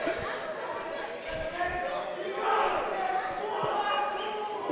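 A large crowd at a futsal semifinal in Grand Rapids roars and shouts continuously, loud and sustained, with a commentator's voice talking over the noise.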